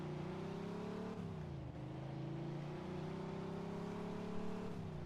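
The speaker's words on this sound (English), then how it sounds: "Our vehicle's got some motor, so we can also listen to this baby purr." A car engine in the video game Mafia II idles and purrs with a steady low tone that dips and rises slightly as the revs shift, continuous and fairly quiet, with no voices.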